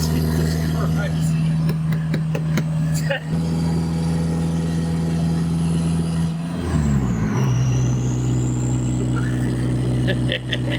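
Diesel 1.9L ALH engine in a MK4 Volkswagen Jetta running loud and steady, a deep droning idle with a clear pitch shift partway through, with people talking nearby over it.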